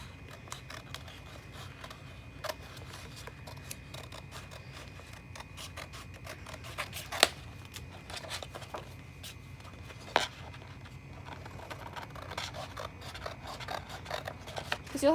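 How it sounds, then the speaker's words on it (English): Scissors snipping a Cricut infusible ink transfer sheet down to size, a long stretch of small close crisp cuts and rustling paper, with a few sharper clicks standing out over a quiet room. "I do recommend cutting it first down to size just so it's easier to handle"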